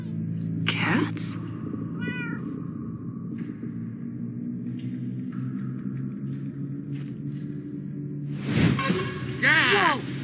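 Cat meows from a Minecraft Story Mode scene, a few short calls heard early and a louder cluster near the end over a droning game backdrop, with occasional whooshes.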